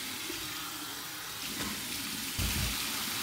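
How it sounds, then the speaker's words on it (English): Warm water runs from a tap over a flat top shaving brush, rinsing out tabak shaving soap; a steady close hiss of flowing water that swells louder near the end. "Here's my warm water rinse."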